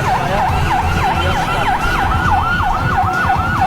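A loud, close ambulance siren wailing in rapid repeating up-down sweeps over a rumbling engine and road noise.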